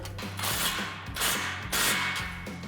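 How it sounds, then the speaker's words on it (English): An exhaust clamp on a slip joint is snugged down on a Chevy Sierra 2500 dual exhaust. Close, quiet ratchet clicks come in three or four short bursts, each a run of rapid pawl ticks. "snug down our clamp"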